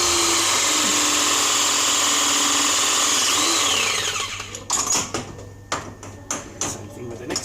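A press tool crimps a 50mm gas pipe fitting, its motor whining steadily for several seconds before fading into a few sharp mechanical clicks and clunks, close by.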